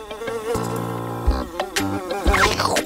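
A cartoon fly buzzes in a sustained, wavering drone, close and fairly loud, with pitch sliding up and down and brief breaks between stretches of buzzing.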